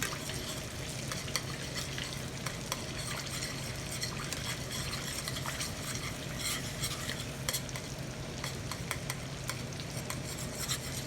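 Butter cooking in a pan as a sauce for steamed snow crab, a continuous quiet bubbling sizzle with faint crackles throughout, close and even, no talk.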